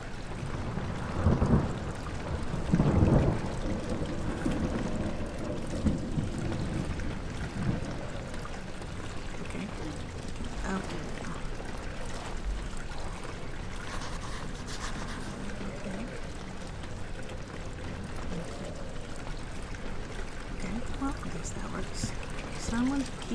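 Rain falls in a constant, dense patter, with low rumbles early on and a person talking over the steady downpour.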